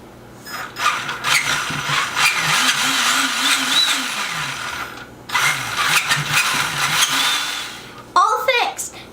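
A Traxxas Summit RC truck fitted with a Titan 775 brushed motor powers on: a gear-and-mechanism whine with a wavering tone runs for several seconds, pauses, then returns, followed by a brief chirp at the end.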